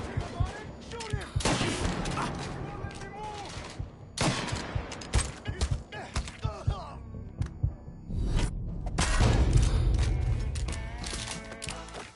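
Gunfire rings out in bursts in the video game Mafia 3, sharp shots and volleys separated by short pauses amid game noise, with shouted voices over it.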